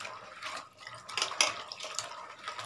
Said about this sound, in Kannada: ನೋಡಿ ಇದನ್ನು ಚೆನ್ನಾಗಿ ಈ ರೀತಿ ಹಿಸುಕಬೇಕು, ಹಿಸುಕಿ ತೊಳಿಬೇಕು.